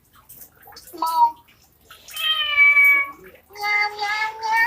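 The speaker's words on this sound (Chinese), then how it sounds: "我是小猫，我最喜欢吃鱼。" A cat meows twice from a children's sound poster book, bright drawn-out electronic-sounding calls following a brief voice at the start, fairly loud and close.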